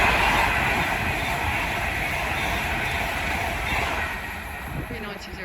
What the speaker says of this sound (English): Here we have an Avanti West Coast Class 390 Pendolino.